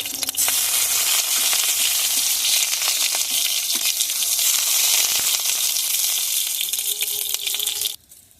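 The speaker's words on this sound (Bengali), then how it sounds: "একটা টমেটো মাঝখান দিয়ে কেটে নিয়েছি সেটা ভেজে নেব টমেটোটা উল্টিয়ে দেবো" A halved tomato fries in a pan with a loud, steady sizzle that runs unbroken for about eight seconds, then cuts off abruptly near the end; no one speaks.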